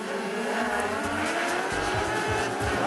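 Formula 500 race cars at Rockhampton Speedway roar and accelerate together, a dense, loud engine howl with rising tones as the pack surges off the line.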